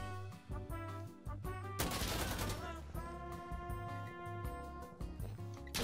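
Rapid gunfire in Insurgency Sandstorm, dense bursts of automatic shots running almost continuously and loud over tonal game music, with a heavy volley near the middle.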